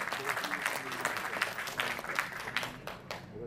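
Loud, sustained applause from the audience at a community association's souvenir-booklet inauguration, with individual sharp claps standing out and a few voices murmuring beneath.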